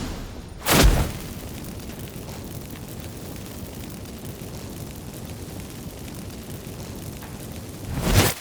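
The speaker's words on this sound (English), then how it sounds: "Get ready for some magic fireworks." Magic fireworks explode in The Witcher 3 video game: a sharp booming burst opens, a steady roaring rumble holds for several seconds, and a second blast closes it.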